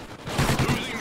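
Rapid burst of automatic gunfire in the Call of Duty: Ghosts video game, a brief rattling fusillade of several quick shots within about a second.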